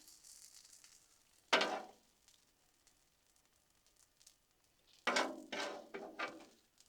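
Peppers and onions hit a hot Blackstone griddle in one loud sizzling burst, then fade to a soft hiss before a second cluster of sharp sizzles and scraping bursts near the end; no one speaks.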